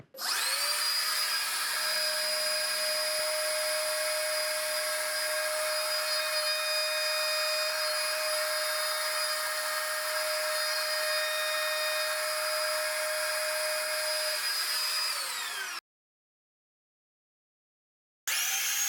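A trim router fitted with a spiral upcut bit cuts a deep mortise inside a template, giving a steady, loud high-pitched whine that holds for about fifteen seconds, then stops abruptly and briefly resumes at the end.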